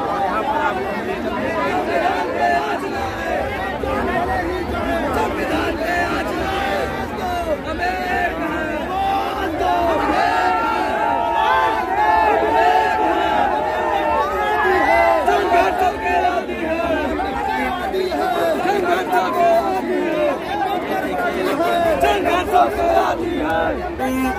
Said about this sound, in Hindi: यहाँ पर भीड़ बहुत बहुत